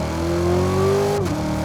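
A C7 Corvette Z06 supercar with a 650 hp engine accelerates hard in second gear, its engine note climbing steadily and loudly from inside the car before a sharp shift cuts the tone.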